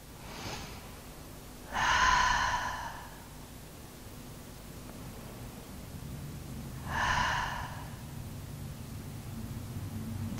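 Two deep breaths during a yin yoga session for lower back pain, each a slow, close, breathy exhale through the nose, spaced several seconds apart over a quiet room.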